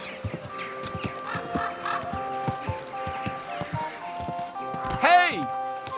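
In the video game Kingdom Come: Deliverance II, horse hooves clip-clop in a steady walking rhythm, then a horse gives one short whinny near the end, with a rooster-like call in the background.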